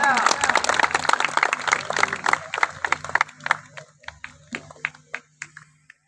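Crowd applause at a Shiv Jayanti event for children's mallakhamb pole demonstration, dense clapping at first that thins to sparse individual claps, with voices talking underneath.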